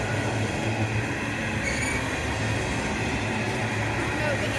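A CSX tanker train rolls slowly past, a steady rumble and clatter of wheels on rails with faint metallic squeal, continuous and fairly close for the whole stretch.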